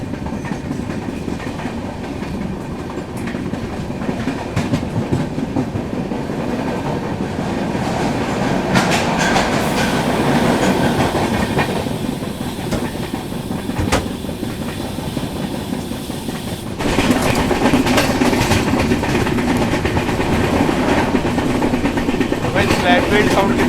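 The Trivandrum Rajdhani Express, train 12431, rolls along after leaving Madgaon Junction, its wheels clattering loudly and continuously on the rails. A rushing roar runs underneath the clatter and grows heavier in the last stretch.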